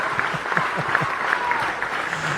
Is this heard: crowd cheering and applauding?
yes